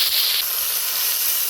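Potato and eggplant hit a hot pan of fried onion, shrimp and thankuni greens, setting off a loud, continuous hissing sizzle that is strongest at the start and stays close and steady.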